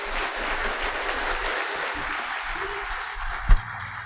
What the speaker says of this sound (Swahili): Asante sana, tumpigie Bwana makofi.